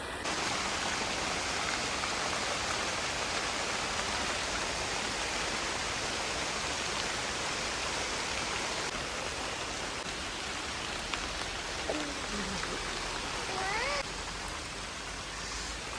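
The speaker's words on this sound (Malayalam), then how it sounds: "വെള്ളം ഇങ്ങനെ വന്നുകൊണ്ടേയിരിക്കുന്നു" Steady rain and water flow near a large rock at Thenmala make a dense, even wash of noise that holds at the same level throughout, close and unbroken.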